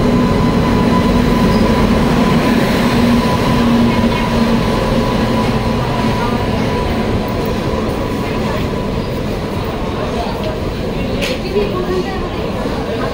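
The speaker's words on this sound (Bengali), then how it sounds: "আমাদের ট্রেন চলে এসছে" The 12311 Netaji Express rolls into the platform with a loud continuous rumble of wheels and carriages, a steady tonal hum and occasional squeal, and people talking underneath.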